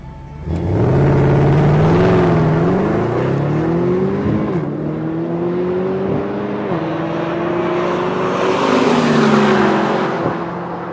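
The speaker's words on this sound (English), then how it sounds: "I took the wheel of the SLS and challenged racer Tommy Kendall for a quick tete-a-tete" A Mercedes SLS AMG on a race track, its engine loud and close, revving up through the gears with rising and falling pitch, a steady powerful drone between shifts and no talking.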